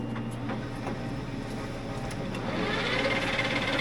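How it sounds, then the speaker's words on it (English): A metal lathe spins a vintage Polaris snowmobile drive clutch part for polishing, a steady whirring hum with faint ticking, close by, swelling slightly louder toward the end. "All right, back at the lathe again."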